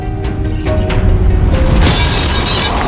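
Glass falls and shatters loudly and close by, a few sharp knocks followed by a bright, sustained crash of breaking glass.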